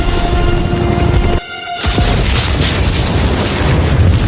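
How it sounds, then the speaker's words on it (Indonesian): A locker blasts apart in an action film scene with a loud, booming explosion, the heavy roar continuing after a brief dip in the middle. "ketika loker meledak dengan sekuat tenaga, Stone berlari"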